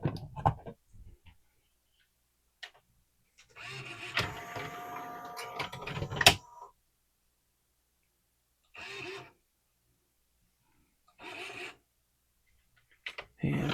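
A Pioneer CLD-3090 LaserDisc player with tray loading trouble powers up, giving scattered clicks, a longer whirring, grinding mechanism run, then two short motor bursts and a final click, close and isolated.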